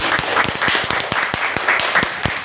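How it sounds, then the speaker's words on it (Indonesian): Classroom applause for a student group after a presentation, a dense burst of many hands clapping steadily and fairly close for the whole stretch. "Kita kasih tepuk tangan yang meriah untuk Tasya."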